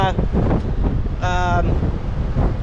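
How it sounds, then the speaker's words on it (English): Strong coastal wind of roughly twenty miles an hour buffets a fur-covered microphone on Galveston Island beach on the Texas Gulf Coast, a loud continuous roar, with a brief tonal whistle partway through. "The wind has picked back up."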